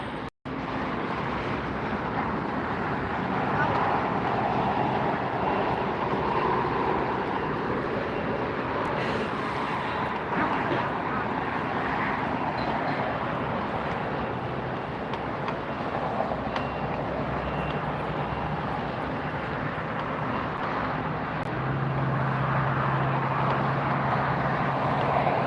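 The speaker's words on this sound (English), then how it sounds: "there's the Emirates A380" Emirates Airbus A380 moving at LAX, a continuous, moderate jet engine rumble and whine carrying on at a distance for the full length, no speech.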